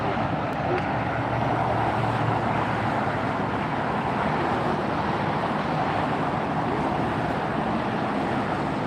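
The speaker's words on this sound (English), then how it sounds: "It looks like that one's taken off. The Emirates A380 is heading out." An Emirates Airbus A380 jumbo jet taking off at LAX, its engines a steady, broad roar that stays loud and even throughout, with no voices.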